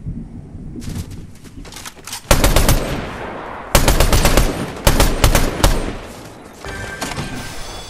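Automatic gunfire in Fortnite Chapter 5 with modified guns: loud, rapid volleys in several separate bursts, sharp and close, with quieter distant shots between them.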